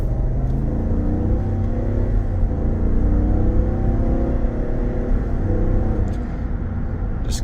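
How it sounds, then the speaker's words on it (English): A 2024 GMC Yukon Denali accelerating hard on the road, its engine rumbling low and steady from inside the cabin with smooth rising tones as the transmission works through gear shifts. "Just getting on it there so you can hear it shift."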